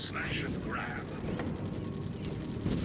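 Defense Grid towers, including a concussion unit, keep firing at a flying enemy, with repeated gunfire-like bursts and booms under a steady rumble while someone talks over the action.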